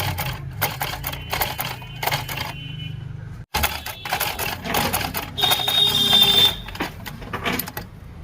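A home sewing machine under repair stitches through eight layers of cloth, its rapid mechanical clatter running in two close, steady bursts split by a brief stop, with no talk.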